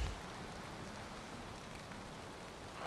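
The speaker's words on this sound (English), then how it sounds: "And now it's raining." Steady rain falls in the video game Valheim, a soft, even hiss of drops that stays constant and fairly quiet, with no voices.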